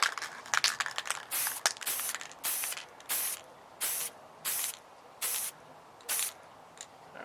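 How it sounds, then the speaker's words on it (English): Army Painter white primer sprayed from an aerosol can onto a miniature figure, heard as a run of about eight short, bright hissing bursts at a steady rhythm, close and fairly loud, with rattly handling noise before the first sprays. "We'll start off with the white primer here from the Army Painter, and we'll go ahead and spray it directly down on her to show the highlights."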